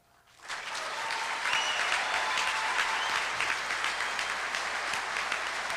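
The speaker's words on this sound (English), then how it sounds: "I appreciate your applause" Applause from an audience at an NRA annual meeting in Nashville swells quickly after a brief quiet start. It holds as a dense, steady roar of clapping with no speech over it.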